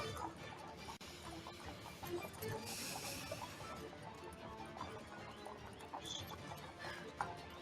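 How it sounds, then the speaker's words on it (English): Horse hooves clip-clop in a quiet tabletop role-playing game sound effect, a soft, steady rhythm of hoof falls, with a faint whinny and a brief brighter burst partway through. "whinnying sound effect."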